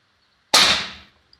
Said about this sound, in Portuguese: para medir para vocês o barulho que essa carabina vai fazer